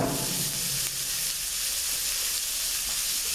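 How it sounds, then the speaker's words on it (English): Onions hit melted fat in a pan to caramelize, giving a loud, steady sizzle and hiss that runs unbroken throughout, with no voices. "Once that melts, you're going to add your onions. Going to caramelize them."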